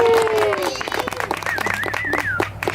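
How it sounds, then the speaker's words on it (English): Applause at a Sammy Terry horror-host show at a drive-in theater for a young audience volunteer, a short burst of scattered clapping mixed with crowd noise and voices that rise over it and fade toward the end. "Give her a round of applause."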